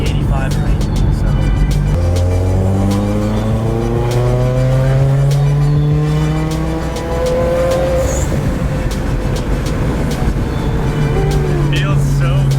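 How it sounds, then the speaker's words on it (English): A Subaru WRX on 91 pump fuel revs up and down repeatedly, with sweeping engine pitch, sharp crackling exhaust pops and bursts, loud and close, while people talk over it. "These pops are nice."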